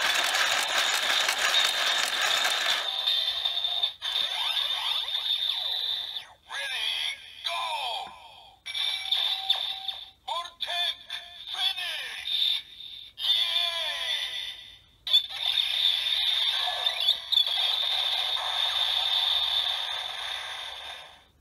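A Kamen Rider Build toy transformation belt plays its Vortech Finish finisher sound effects in tinny, bright, choppy electronic bursts with brief gaps and clicking, lasting around twenty seconds.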